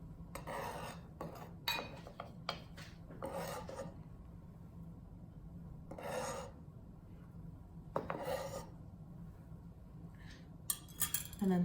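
A kitchen knife makes a small, fine chop through vegetables for pico de gallo, giving a series of short, close cutting-board taps in irregular bursts with brief pauses and a low steady hum behind.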